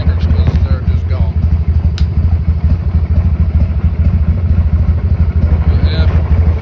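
A 2003 Harley-Davidson Sportster 1200 engine runs with a loud, rough, uneven sputter and steady low rumble throughout, with faint clatter.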